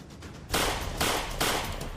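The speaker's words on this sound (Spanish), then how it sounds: "Hicieron disparos al aire para hacer sentir su hegemonía." Gunshots fired into the air by a gang retreating after a robbery attempt in Trujillo, heard as a few loud, sharp bursts about half a second apart over a noisy background.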